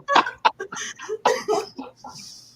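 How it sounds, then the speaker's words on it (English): A person coughs in a series of sharp, close bursts, several harsh throat-driven coughs in quick uneven succession. "You got me coughing over this."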